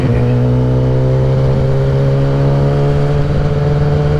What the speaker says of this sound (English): That Graves full race exhaust has sounded nice today.